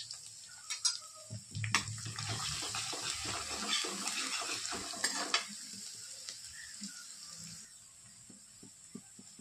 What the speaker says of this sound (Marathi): तेल गरम झालं नॉर्मली, मी टाकत आहे लसूण किसून घेतलाय